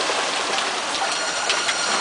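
Steady, dense rain pours down at an outdoor family Easter gathering, a continuous broadband hiss with faint drop patter throughout and no speech.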